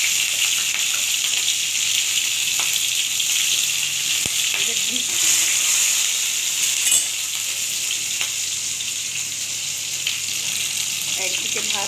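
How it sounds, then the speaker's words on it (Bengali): Green chili, black cumin and tomato sizzle steadily in hot oil, a dense continuous frying hiss with occasional stirring clicks, close and loud throughout. "এর মধ্যে আমি কাঁচা লঙ্কাটা দিয়ে দিচ্ছি আর কালো জিরে, টমেটোটাও দিয়ে দিলাম।"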